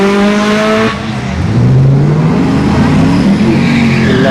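Turbocharged Honda CRX launching at a drag strip: a high engine rev cuts off, then the car pulls away with rising, loud acceleration and gear-change pitch steps, heard close and continuous.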